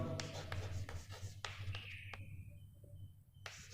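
Pen writing on paper during a maths lesson, close scratchy strokes and taps in short uneven bursts over a faint steady hum, with no speech.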